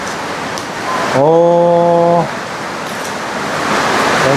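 Steady rain falls throughout with an even, fairly loud hiss, and a man's brief drawn-out exclamation rises over it near the middle.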